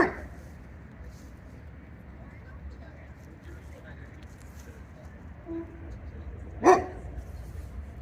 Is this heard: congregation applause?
no